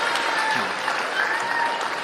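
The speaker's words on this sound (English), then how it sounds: "Listen for the applause." Crowd applause at a pool match at the Puerto Rico Open, even clapping throughout at moderate level with a commentator's voice faintly beneath.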